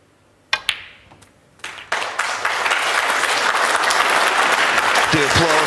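A few sharp isolated clacks open, then applause from the snooker audience at a UK Championship match swells into steady, full clapping, with a commentator's voice briefly audible near the end.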